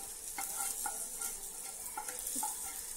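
Mustard seeds and curry leaves tempering in hot coconut oil, a steady close sizzle with scattered small pops and crackles, stirred throughout, with no talking.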